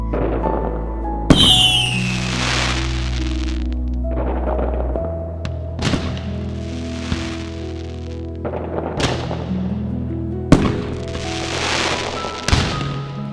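Fireworks at an outdoor corn roast: a series of sharp booms and crackling bursts, each followed by a long decaying rumble and echo, spaced a couple of seconds apart, loud and somewhat distant with no talk.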